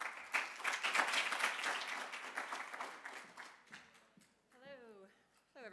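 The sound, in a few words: audience applause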